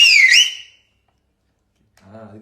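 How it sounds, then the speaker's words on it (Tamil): A person in a live interview whistles loudly and shrilly, a high sliding whistle lasting about half a second, followed after a pause by a short burst of speech. "அந்த மாதிரி விசில் அடிங்கன்னு கேக்குறாங்க"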